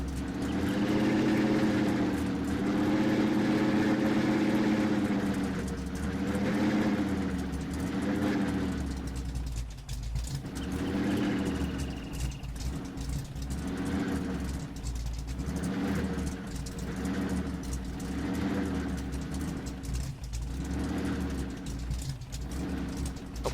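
Truck engine in Farming Simulator 19, a steady loud drone that rises and falls as the vehicle drives and revs, continuous throughout with no talk over it.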